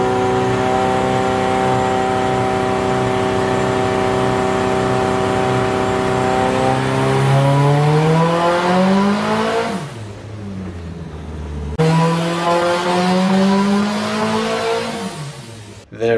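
A Toyota 5E-FTE-powered car on a dyno with a Haltech ECU climbs through a long, loud rising rev under load, drops off sharply on the lift, then revs hard again before cutting out.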